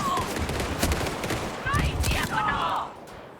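Gunfire in the video game Indiana Jones and the Great Circle: a few loud close shots crack in quick bursts over a busy game soundscape with music and effects, with no talking.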